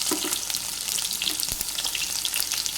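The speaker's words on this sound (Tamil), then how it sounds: "சின்ன வெங்காயத்தை சேர்த்த கையோடு அரைஞ்சி வச்சுருக்கிற அந்த பூண்டை சேர்த்துக்கலாம்" Shallots and ground garlic fry in hot oil with a steady, close sizzle and a few stirring scrapes, no voices.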